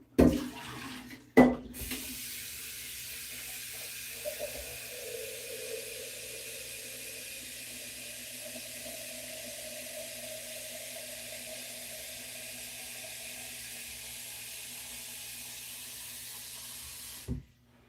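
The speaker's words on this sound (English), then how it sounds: "now I'm going to turn it towards the sink so you can see me fill up the coffee pot" Tap water runs steadily into a coffee pot at a kitchen sink. A few clunks come first, then a continuous hissing stream for about fifteen seconds that stops abruptly, with no talking.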